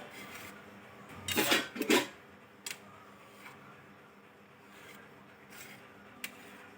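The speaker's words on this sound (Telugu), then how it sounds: "ఇలా చిన్న చిన్న పీసెస్గా గుడ్డును కట్ చేసుకోవాలి" A knife cuts a boiled egg into small pieces for egg pakoda, giving a couple of scraping, clattering strokes against a plate or board, then a few faint light taps over quiet background.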